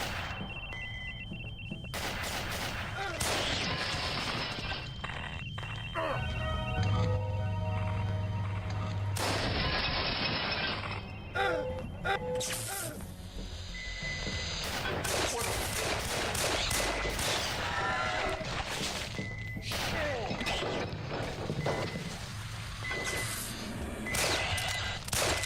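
Rapid bursts of gunfire from the video game Aliens Eradication TC, dense and continuous with short gaps and electronic tones mixed in, loud throughout.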